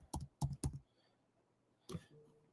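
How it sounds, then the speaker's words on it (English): Quick taps on a computer keyboard sound close and quiet: a burst of three keystrokes, a pause, then one more press. No voices are heard. "I'm going to type in shitcoin over here and this other tab."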